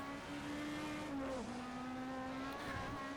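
BTCC Super Touring cars racing in rFactor 2 at Thruxton, a sustained engine drone holding a steady pitch with a brief dip and recovery, loud and continuous.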